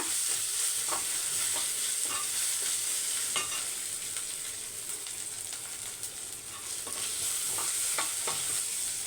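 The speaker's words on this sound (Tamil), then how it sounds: "ஒரு ரெண்டு செகண்டு அப்படியே அந்த இஞ்சி பூண்டோட வதக்கிக்கோங்க" Ginger and garlic sautéing in a pan for an egg biryani gravy, a steady close sizzle with repeated scrapes and clinks of a stirring spoon throughout, no voices.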